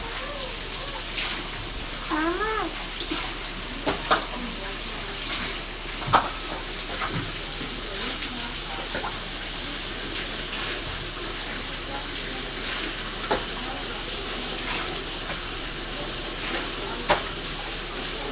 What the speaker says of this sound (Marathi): बघा, पाणीच पाणी.